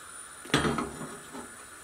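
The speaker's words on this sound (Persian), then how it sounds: "درب ظرف رو میذارم" A cooking pot is covered with its lid while making green fesenjan stew, one short metallic clank with a faint rattle after, heard alone in a quiet kitchen.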